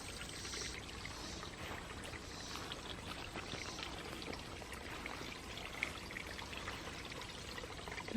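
Water pours steadily down inside an old well on an abandoned 1800s farmhouse property, a continuous, fairly faint trickling rush that carries on unbroken with no one talking over it.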